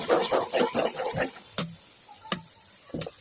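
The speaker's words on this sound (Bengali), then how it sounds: "এগুলো সব একসাথে দিয়ে ভেজে নেব কিছুক্ষণ" Turmeric, chili powder and mixed spices fry together in a pan for a green banana peel dish, with brisk scraping stirs at first, then a soft sizzle broken by a few sharp clicks.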